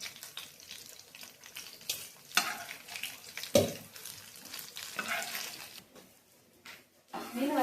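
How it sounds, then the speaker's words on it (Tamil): Fish crackles as it fries in a pan, with quick bursts of stirring and spatula scrapes over a steady sizzle, close and fairly loud with brief pauses. "மீன் வறுத்து முடிச்சாச்சு."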